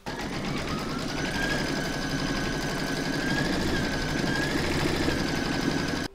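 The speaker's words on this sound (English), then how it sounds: "We're now going to pop that in our machines and stitch round number 2 to secure them." An in-the-hoop embroidery machine stitches a large hedgehog applique with a rapid, even mechanical rattle and motor hum, close and steady throughout before stopping abruptly at the end.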